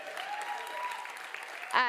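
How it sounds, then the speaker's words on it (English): An audience applauds for a farmer introduced at a Sundance event, a brief burst of clapping over a sustained crowd sound, with a voice starting to speak at the very end. "Give that a round of applause, please."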